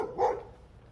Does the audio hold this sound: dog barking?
yes